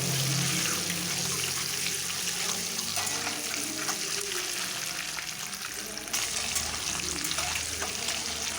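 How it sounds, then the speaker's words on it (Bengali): Eggs sizzle and crackle loudly in hot oil with turmeric while being stirred, a continuous close frying hiss with light scraping, and a faint voice occasionally underneath. "হালকা নাড়িয়ে আমি ভেজে নেব।"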